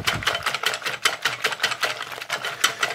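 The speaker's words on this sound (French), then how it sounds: "Donc je vais fouetter pour rendre l'appareil" An electric whisk beats a chocolate mixture for a gluten-free chocolate dessert, giving a steady mechanical whir with rhythmic rattling pulses against the bowl, fairly close and alone.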